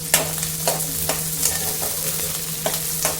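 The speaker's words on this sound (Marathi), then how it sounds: "आता हे छान मिश्रण मिक्स करून घ्यायचं, चांगलं भाजून घ्यायचं।" A vegetable mixture with green peas for veg pulao is stirred and roasted in a hot pan. A steady close sizzle runs throughout, with spoon scrapes repeating every half second or so.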